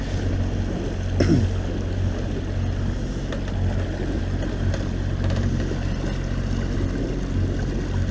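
A low, steady boat motor drone runs throughout, mixed with wind buffeting and splashing water.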